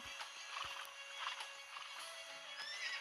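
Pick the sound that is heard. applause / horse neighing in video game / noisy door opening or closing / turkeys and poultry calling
horse neighing in video game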